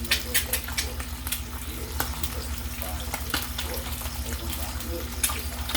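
An egg fries steadily in an oiled skillet, a close, dense crackling sizzle with scattered sharper pops over a low stove hum, continuing evenly throughout.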